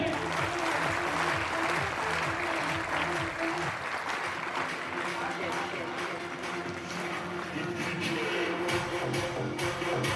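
Applause from an audience at a motivational speech, with a broad clapping texture sustained over about ten seconds and music playing beneath it.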